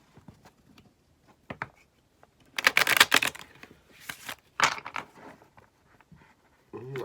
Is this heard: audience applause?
no